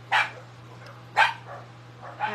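Several dogs barking indoors, probably set off by an approaching delivery, with three separate bursts of barks and yips about a second apart, loud and close over a steady low hum.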